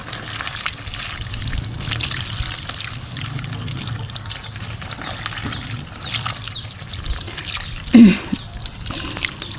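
Water poured onto a freshly potted bromeliad, a soft steady trickle and dribble running for several seconds, close by, ending in a brief louder splash.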